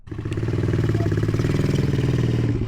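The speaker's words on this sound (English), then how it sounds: "I'm actually going to be riding my wife's pit bike. This is a little X Pro 110." The engine of a small X Pro 110 pit bike runs on a cold day, giving a close, steady, rapid thumping putter with a faint clatter.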